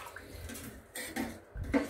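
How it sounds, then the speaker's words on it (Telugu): Water is poured into a pot of tomato rasam in a home kitchen, a short splashy pour in a few bursts, close and fairly quiet. "కొంచెం వాటర్ కూడా యాడ్ చేస్తున్నాను."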